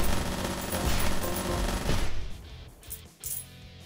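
Twin Gatling guns fire in the Metal Ascension video game as a dense, loud, continuous rapid-fire roar for about two seconds, then cut off, followed by a few quieter isolated bursts and clunks.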